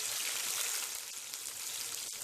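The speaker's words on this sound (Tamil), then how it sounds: "கொஞ்சமாக எண்ணெய் விட்டு பூண்டு, பல்லாரி, பச்சை மிளகாய் 3ஐயும் மட்டும் வதக்கிக்க போகிறோம்" Garlic, onion and green chillies sizzle softly in a little oil in a pan while being sautéed for Tirunelveli sodhi, a faint, even crackle with no talking.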